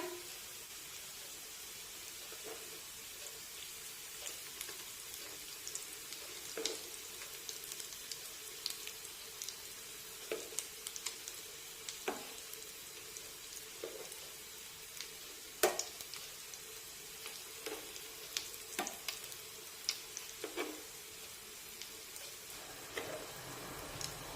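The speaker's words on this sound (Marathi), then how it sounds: "किमान दोन मिनिटे तरी कटलेट्सची एक बाजू छानपैकी फ्राय करून घेऊया" Mashed pea cutlets shallow-frying in oil, a faint, continuous crackle dotted with small irregular pops and ticks, quiet and even throughout with no talk.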